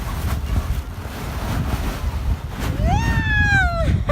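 Ocean waves wash at a beach on a windy day, a steady loud rush of surf with heavy wind buffeting the microphone throughout, and a short rising and falling whistle-like tone near the end.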